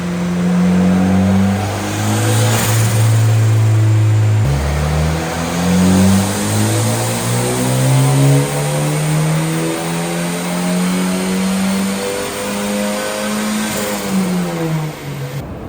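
A Volvo B230 engine on a dyno revs up continuously and loudly, pitch climbing steadily in long sustained pulls with a brief drop and restart, heard close with no talk.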